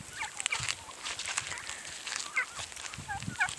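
Turkeys gobbling on a farm with other poultry kept nearby, repeated warbling gobbles in short bursts at moderate distance, fairly faint over a quiet outdoor background with no talking.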